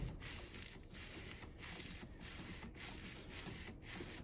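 Flywheel from an old Porsche 911 (996) rocked back and forth by hand, giving a steady mechanical rubbing and ratcheting clatter with faint rhythmic knocks, close and fairly quiet, with no talk.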